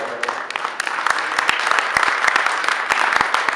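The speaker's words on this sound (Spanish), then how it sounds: "Un aplauso para Eduardo." A room of panel attendees claps for a guest speaker, dense applause with sharp individual claps standing out near the microphone, sustained evenly throughout.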